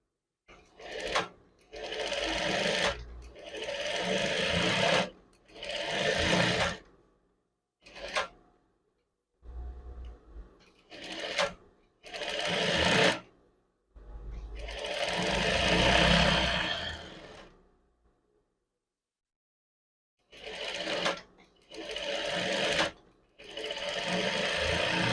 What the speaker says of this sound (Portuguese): Eu vou costurar nessa parte arredondada para poder virar e unir as duas partes para fazer o acabamento da manga